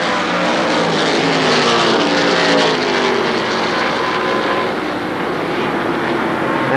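Stock cars racing at Shadybowl Speedway, a continuous roar of many engines heard from a distance, steady and blended, with no talk over it.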